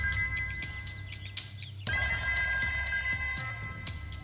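A telephone rings with a bright electronic trilling tone in a short burst, pauses, then rings again more steadily and fades, set against a quiet low hum with no talk.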